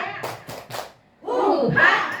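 A group of teachers at an elementary school does a rhythmic clapping chant: three crisp, evenly spaced claps, a short pause, then voices chanting together loudly.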